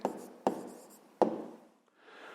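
Pen writing an answer on paper, three short sharp taps each followed by a soft scratching stroke, close and quiet.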